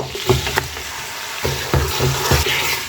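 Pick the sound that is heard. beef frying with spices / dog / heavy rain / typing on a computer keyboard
beef frying with spices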